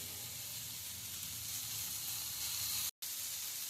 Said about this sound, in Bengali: ক্যাপসিকাম দিয়ে বেশি ভাজতে হয় না এবার আমি দিয়ে দিব ব্ল্যাক অলিভ